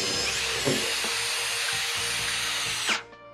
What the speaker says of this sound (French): je prends une mèche plus large et je viens agrandir mes trous